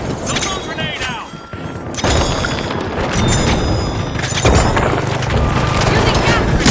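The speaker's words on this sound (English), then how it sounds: "Sonar grenade out!" A sonar grenade is thrown during a chaotic video game match, with a heavy boom near the 2-second mark followed by sustained rumbling and clatter under a game voice line and a speaking player.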